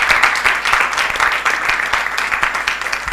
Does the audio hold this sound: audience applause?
yes